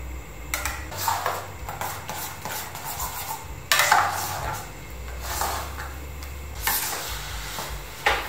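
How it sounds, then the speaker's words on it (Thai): A thick Thai sago and pandan pudding is stirred in a pot over the heat as it begins to boil, with a steady scraping and sloshing that goes on in bursts, close and moderately loud, alone with no talk. "ตอนนี้ก็เริ่มเดือดแล้วนะคะก็คนขนมต่อเบาๆนะคะเดี๋ยวขนมก็จะข้น"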